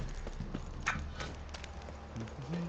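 Horse hooves clip-clopping in The Witcher 3 video game, a steady rhythmic trot on the ground under a dense game soundscape of ambience and music, with no one talking.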